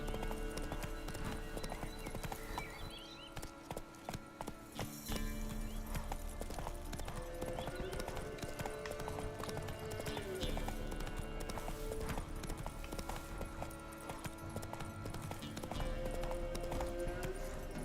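Hooves of the horse Roach clip-clopping steadily in The Witcher 3: Wild Hunt, a continuous rhythmic trot layered over game music and ambience, with a voice speaking over it.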